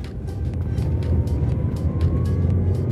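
A 2012 Ford New Fiesta 1.6 accelerating in second gear, a steady engine drone heard from inside the car, with a rising whine over a low rumble.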